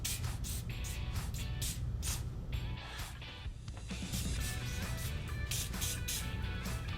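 Big Shot PB Blaster penetrating oil sprays onto rusty exhaust bolts under an early Ford Bronco in a shop, a loud close hiss in repeated bursts with no talking.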